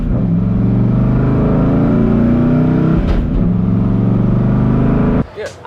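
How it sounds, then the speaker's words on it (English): A car with a faceplated TKX manual transmission drones loudly at steady revs. The engine note briefly breaks at each hard shift into gear, with a final sharp cutoff near the end. "I'll just like slam it into gear"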